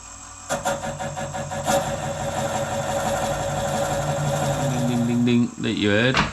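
A wood lathe spins at 350 RPM while resin pen blanks are turned, making a steady mechanical whir and hum with rhythmic rattling. A tool catches and chatters briefly near the end.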